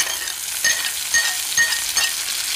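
Chopped tomato hits hot oil with frying onions in a pan for a bhindi (okra) curry, giving a steady close sizzle with light stirring scrapes and small pops, no voices.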